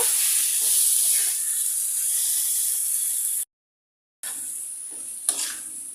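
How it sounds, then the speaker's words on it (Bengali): Amaranth greens (data shak) frying in a pan, a steady close hiss and sizzle throughout, briefly cut off by a gap of silence before resuming with a small clink of stirring. "দুই মিনিটের মতো ভাজা ভাজা করে নিয়েছি এখন নামিয়ে নিব"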